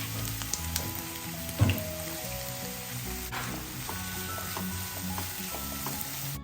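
Onions sizzle and fry steadily in sunflower oil in a pan, a close, continuous crackling hiss with a brief louder spatter, no voices.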